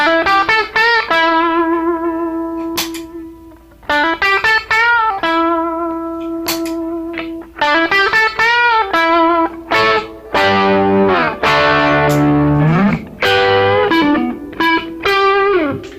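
A distorted electric guitar through a Hello Sailor Effects Range Master treble booster pedal plays bright, sustained chords and single notes, loud and continuous with brief gaps between phrases.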